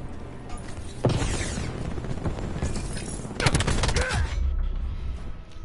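Sniper rifle gunfire in Call of Duty Black Ops 4: loud sharp shots with bursts near the start and middle, ringing against dense game noise, and faint voices in the mix.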